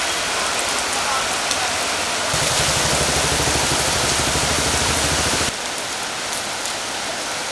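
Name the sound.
heavy monsoon rain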